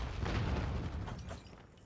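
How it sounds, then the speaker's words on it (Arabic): A grenade blast in Call of Duty Mobile, heard as a loud, dull boom with rumbling low end that fades over a couple of seconds, with no voices over it. "حاسب القنبلة؟ قنبلة؟"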